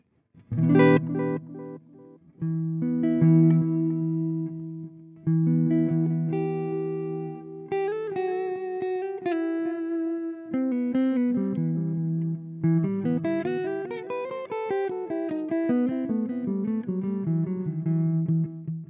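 An electric guitar plays through a GUP Tech Bea-Verb delay/reverb combo pedal on an ambient delay setting with reduced feedback and level, sounding single notes and chords whose repeats trail softly behind each phrase, with no talk.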